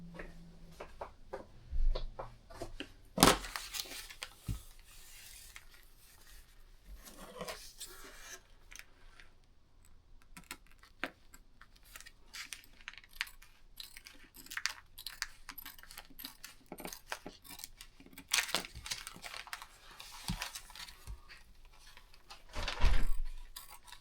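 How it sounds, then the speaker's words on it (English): Scissors snip through a plastic vacuum sealer bag in a series of short, crisp cuts spread out over time, with quiet rustling handling noise between them. "We'll get a pair of scissors."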